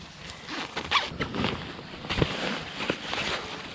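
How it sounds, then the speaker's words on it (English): Zipper on a large mesh zip pocket of an Eagle Creek 36-inch ORV trunk, several short close rasping pulls over a few seconds with light handling noise and no talking. "Here we have a nice large mesh zip pocket."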